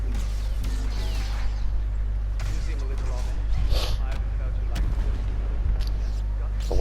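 Blaster gunfire rattles in a Star Wars Battlefront 2 battle, with bursts of shots over a steady low rumble while someone talks throughout.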